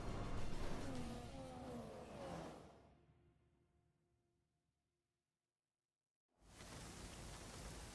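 Heavy rain and race car noise at the Russia round of a racing game, a loud wash of hiss that fades to near silence, then cuts back in abruptly.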